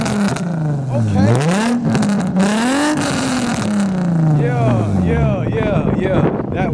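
An Infiniti G35 Coupe engine revs up and down repeatedly, its pitch rising and falling loudly and close by, with wind buffeting the microphone.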